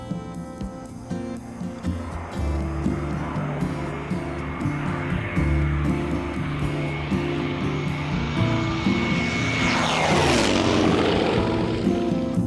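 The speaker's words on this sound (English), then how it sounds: "anyone who has seen and heard this magnificent aircraft being displayed will not forget just what a fearsome weapon of war Willy Messerschmitt's classic fighter was" Willy Messerschmitt's classic fighter at a flying display, its piston engine droning loud and steady, then rising and sweeping past in a strong Doppler pass near the end.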